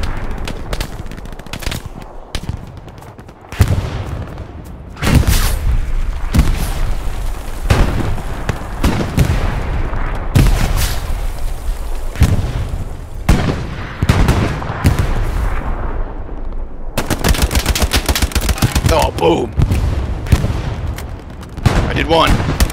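Heavy gunfire and explosions from the Hell Let Loose video game fill the scene with loud, dense machine-gun bursts, rapid rifle shots and booming blasts, nearly continuous throughout, with voices shouting over the battle.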